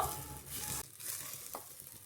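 Rice and grated coconut are stirred and sautéed in a hot pan for sweet coconut rice. A soft sizzle runs under close scraping stir strokes, and there is a brief clink.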